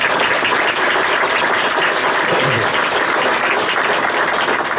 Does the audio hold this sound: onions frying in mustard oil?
no